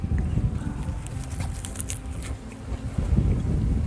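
Strong, gusty wind blowing hard outdoors at a roadside barbecue, a steady loud roar with buffeting against the microphone throughout and brief louder gusts.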